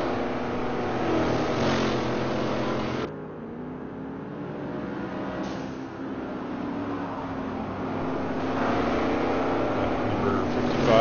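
A Camaro race car in a historic Trans Am racing video game at Sears Point, with its engine droning and revving through gear changes and a sudden drop in pitch partway through, and a commentator talking over it.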